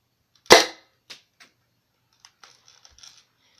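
An airsoft gun fires a single sharp, loud shot. A few faint ticks and rattles follow, like the pellet ricocheting and settling.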